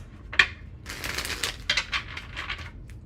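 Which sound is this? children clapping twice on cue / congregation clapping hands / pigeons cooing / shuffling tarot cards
shuffling tarot cards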